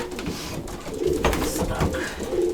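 Racing pigeons coo in a loft, soft throaty rolling calls repeating close by over a low, busy background.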